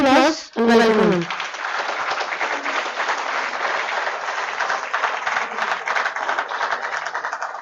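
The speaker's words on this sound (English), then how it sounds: "please give him a round of applause and welcome him" Sustained audience applause fills a conference hall at UPES's International Conference on Management of Infrastructure, steady and dense after a brief opening voice, continuing evenly to the end.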